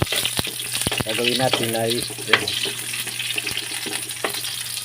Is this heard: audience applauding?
no